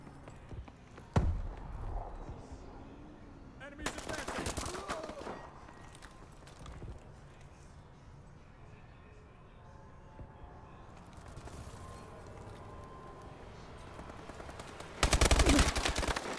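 Gunfire in a multiplayer shooter video game during a bomb-defusal round: a few sharp bursts of shots, one loud volley near the end, between quieter stretches of game noise.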